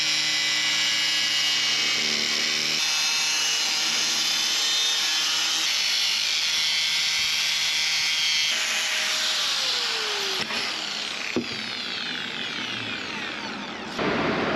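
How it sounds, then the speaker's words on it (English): An angle grinder cuts sheet metal for a shifter plate in a Fiat 124 Spider interior install, a loud sustained whining scream that shifts in pitch as the disc bites and slows, with no voices. "We're just gonna grab some metal and we're gonna cut this shape out roughly with the grinder"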